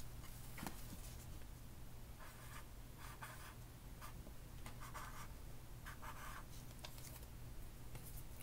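A pencil or pen scratches out a short word on paper, faint bursts of scribbling strokes separated by brief pauses over a steady background hum.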